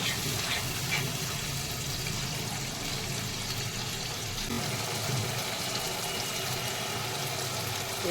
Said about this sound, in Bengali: এইবার আমি জল দিয়ে দেবো অল্প। জলটা দিলাম